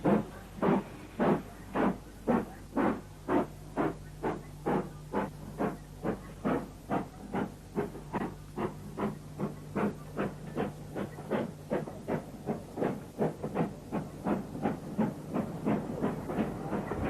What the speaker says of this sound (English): This is King Henry V, preparing to take out the Up Cambrian Coast Express from Snow Hill Station.